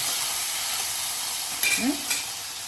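Tomatoes dropped into a hot frying pan give a steady, loud broadband sizzle and hiss, with a brief clatter of stirring near the end.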